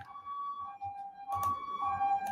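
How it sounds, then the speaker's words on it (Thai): An ambulance siren sounds faintly from outside, a thin two-tone wail that swings steadily between pitches and is briefly joined by a soft rush of background noise. "มีเสียงรถพยาบาล ไม่ได้ยินเสียงรถพยาบาลนานมาก"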